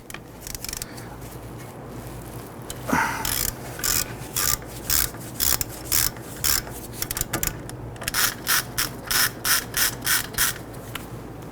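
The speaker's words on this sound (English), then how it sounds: "Remove your brake caliper by removing the two 17mm bolts holding in place." A hand ratchet clicks in quick repeated bursts while loosening the 17mm brake caliper bolts on a Ford Explorer front brake, close and crisp, with a scrape of metal before the rhythmic strokes begin.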